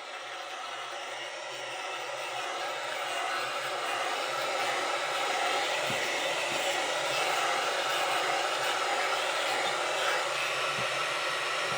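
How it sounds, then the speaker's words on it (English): A cheap hot air rework station heats the grip material on a Jumper T-Lite radio controller, giving a loud, steady blowing hiss that runs unbroken from start to finish, with no talking. "This is just a cheapo air rework station, and you're going to want to heat up the grip material."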